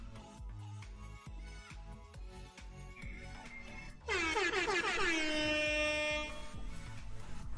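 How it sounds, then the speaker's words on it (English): An air horn sound effect blasts during MTG Arena draft gameplay, a loud sustained honk of about two seconds that cuts in abruptly over quieter game sounds, then fades to background. "Get the air horns out."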